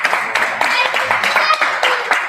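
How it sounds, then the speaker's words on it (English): A church congregation clapping hands together in celebration, steady rhythmic claps with a pulse roughly every quarter second, fairly loud and close, without talking over it. "Just clap your hands and celebrate this young man."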